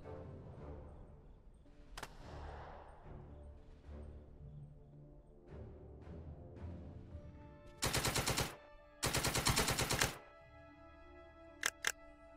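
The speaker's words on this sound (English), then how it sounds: "So we can get another set of machine guns on this target." Machine gun fire in the Second Front strategy game, two long sustained bursts of rapid shots near the middle and a few sharp single cracks near the end, over quieter scattered battle noise.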